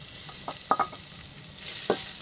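Cooked beef, seasoned with chili powder, coriander powder and salt, stirred in a pan for a Kerala varutharacha curry, giving a soft sizzle under scattered clinks and scrapes of a spoon, with no voice.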